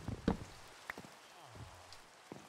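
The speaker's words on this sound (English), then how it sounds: "Oh, it's raining." Rain falls in a video game, a soft steady hiss of drops under faint scattered clicks and thumps, with no talk during this stretch.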